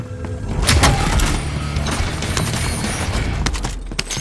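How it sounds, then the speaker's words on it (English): An allied precision airstrike in Call of Duty: Modern Warfare lands as a loud, continuous barrage of rumbling explosions and rapid blasts, dense and close throughout with no voices. "Allied precision airstrike incoming."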